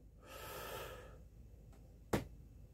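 A long, audible breath drawn in through the mouth, rising and then fading, followed by a brief sharp exhale-like puff near the end.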